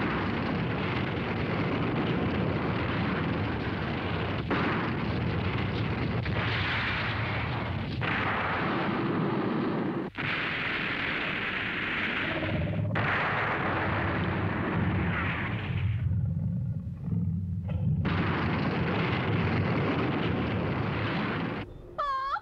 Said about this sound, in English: Try the laser gun again.